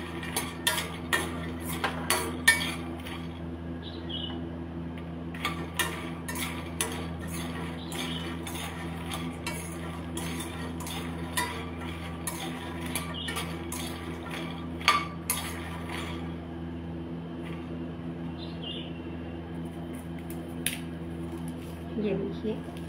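Utensil scraping and clinking against a pan as food is stirred with the gas flame off, a steady run of small metallic taps and scrapes at close range over a low background hum.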